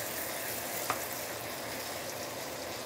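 Pork and vegetables for a Korean stir-fry sizzle quietly in a pan, giving off their juices. The soft, even crackle runs throughout with one small tick partway through and no talking.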